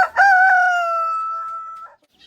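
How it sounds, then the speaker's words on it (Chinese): A farmyard rooster lets out one loud, close cock-a-doodle-doo, rising sharply and then holding a long drawn-out note before cutting off into near silence. "而且这个家伙最近又开始对着我打鸣了"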